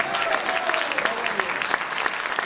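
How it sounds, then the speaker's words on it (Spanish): Steady applause from an audience at a Catholic retreat, dense even clapping throughout with faint voices and a brief tonal sound beneath it. "eso merece un aplauso a nuestro Señor Jesucristo."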